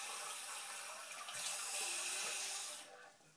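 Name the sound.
cold water being added to a measuring jug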